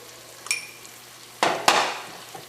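Chicken tipped into a curry pan and stirred through masala for a Karaikudi chicken curry, giving two sharp, quiet clattering, sizzling bursts near the end after a faint metallic clink, with no voices.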